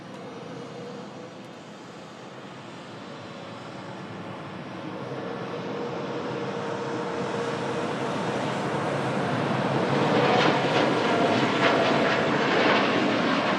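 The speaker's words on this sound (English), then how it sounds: "Qatar Airways Dreamliner is now rolling" A Qatar Airways Dreamliner jet rolls for takeoff, its engine roar building steadily from a moderate rumble to a louder, fuller roar heard from a distance, with no talking.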